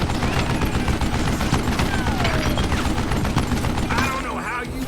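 Dense gunfire from the Western shooter Call of Juarez: Gunslinger, a continuous loud fusillade of shots over game music and effects, easing slightly near the end.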